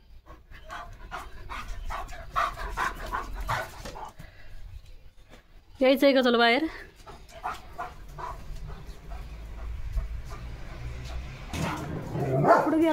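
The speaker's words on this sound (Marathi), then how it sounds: "गुरांना भुंकतोय." A pet dog near a rural home yaps and barks at passing cattle, with panting and whimpers between bursts, close by, while a person talks over it.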